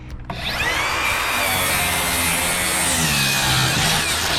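Makita 40-volt cordless circular saw spinning up and cutting through wood, a loud, close, sustained whine and rasp that holds steady for several seconds.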